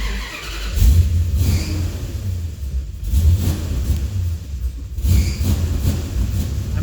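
An engine fitted with Edelbrock E-Street EFI, in a no-run condition, revs up and settles three times in a steady rhythm as the gas pedal is pumped, loud and close with no other sound over it.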